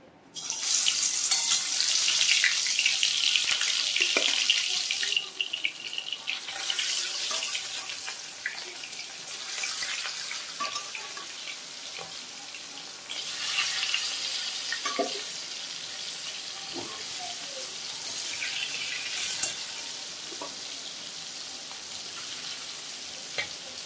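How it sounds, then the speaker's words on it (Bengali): Snakehead fish pieces fry in hot oil, a steady hissing sizzle that is loudest at first, then eases and swells again, with faint clinks now and then. "তেল গরম হয়ে গেছে, এখন আমি মাছগুলো দিয়ে দেব।"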